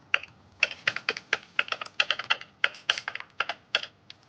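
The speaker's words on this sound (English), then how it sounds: "you started with the speed typing test" Rapid bursts of typing on a computer keyboard during a timed speed typing test, keys clattering in quick uneven clusters with brief pauses, close and clear with no talking.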